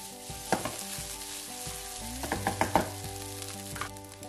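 Rice and shrimp stir-fried for Yangzhou fried rice, sizzling steadily in a wok with several sharp scraping and tossing bursts, close and moderately loud, no talking.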